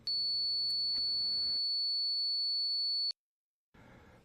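Two steady pure tones from an online tone generator, 4000 and 4440 Hz, sounding together as one piercing high whine with a fainter low tone under it, cutting off abruptly into silence before a short burst of noise.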